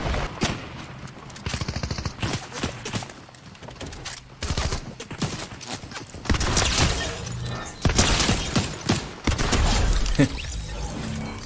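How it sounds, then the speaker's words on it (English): Fortnite gunfire, a mix of distant cracks and rapid nearer bursts with occasional shattering impacts, recurring throughout, with a player talking over it. "Someone is shooting me from far"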